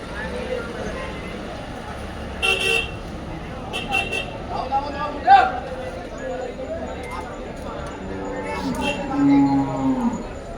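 A water buffalo lows a few times amid people talking and some passing road traffic in the background.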